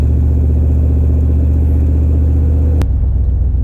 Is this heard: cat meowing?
no